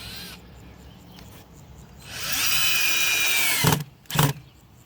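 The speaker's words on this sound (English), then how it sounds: "we are blessed with the technology of a drill to help us along our way" A power drill digs into the ground for a community garden well, its motor spinning up into a steady whine for a couple of seconds, then cutting off with two short bursts, close and alone.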